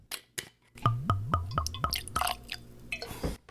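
Benchmark whiskey glugs from the bottle into a glass in a quick, even run of about five hollow gulps, followed by a few softer splashes. The pour is close up, with no talking.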